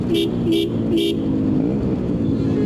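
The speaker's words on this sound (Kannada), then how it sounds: "Dual horn setup, imported horns. Horn ಹೇಗೆ ಸೌಂಡ್ ಇದೆ ನೋಡಿ" An imported dual horn on a Yamaha RX115 two-stroke motorcycle sounds three short, evenly spaced blasts, loud and close over the idling engine, which keeps running after the last toot.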